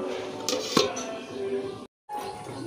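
A pot lid clinks down onto a pot of crab curry on a home kitchen stove: two quick metallic knocks close by, then a quiet hum.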